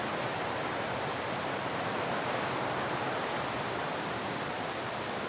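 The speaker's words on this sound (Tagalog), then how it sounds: "malakas yung agos ng tubig dito guys sa banda na to" Rushing river water near Ubot Falls in Maria Aurora, a loud, steady broadband roar that fills the whole span without any break or voices.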